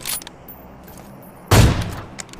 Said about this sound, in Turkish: Sizi buradan vururum ki ben. Mermi geçiyor mu acaba oradan?